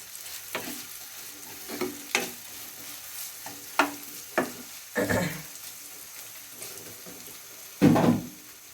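Chopped onions with sliced green chilies fry in a pan for a Bengali fish and yardlong bean curry, a soft sizzle under repeated sharp clicks and scrapes of a stirring spoon, with one louder bubbling burst near the end.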